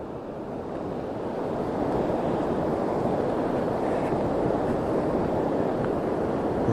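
Gulf of Mexico surf washing onto the beach at Galveston at low tide, a continuous broadband wash of waves with some wind noise on the microphone, steady and fairly close, no voices.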